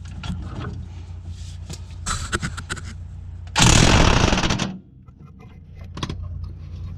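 An impact wrench hammering a rear shock bolt on a 2014 Ford Focus in one loud, rattling burst of about a second, with clanks and handling noises before and after.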